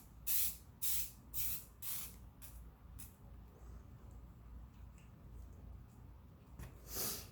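Aerosol spray paint can on a shop bench, pressed in several short hissing bursts, then a faint sputtering as the broken can gives out, with one more burst at the end; close and fairly quiet.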